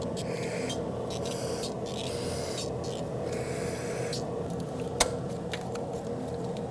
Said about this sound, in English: spray some brake parts cleaner on there